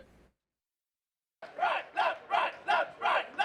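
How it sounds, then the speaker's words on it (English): Baseball fans of the Marklight Mob chant and cheer in rhythmic bursts from the bleachers, five or six loud crowd surges following a brief pause of silence. "When you hear the fans getting into it, you know, that does something for you."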